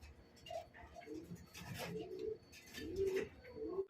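Quiet pigeon coos repeat in soft, rolling phrases close by, with brief pauses between calls.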